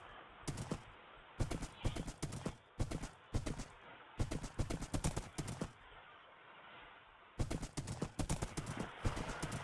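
Rhythmic clip-clop of horse hooves in Minecraft, in quick bursts with brief pauses between runs, crisp and close with no talking.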